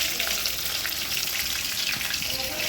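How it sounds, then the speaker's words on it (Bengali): Hot oil spatters and crackles steadily as hilsa fish fries in a pan, close and fairly loud, with irregular pops throughout and no voices. "ইলিশ মাছ তো ফোটে এমনভাবে দেখো"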